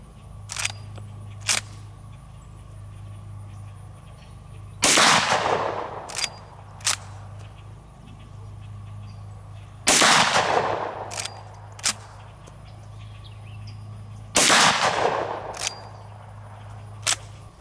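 A Big Horn Armory Model 89 lever-action rifle chambered in 500 S&W Magnum fires three heavy shots outdoors, each a loud sharp blast with a rolling tail, separated by quieter clicks and handling noises of the action.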